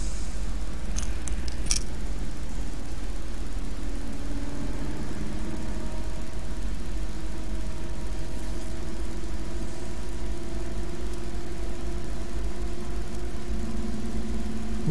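Rear-mounted engine of a Scania Touring HD coach in a driving video game, a steady low mid-range drone running continuously at cruising speed, with a few faint high clicks near the start.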